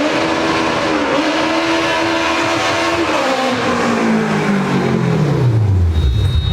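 Car engine revving loudly and close, a steady high drone that then winds down in pitch as the revs drop.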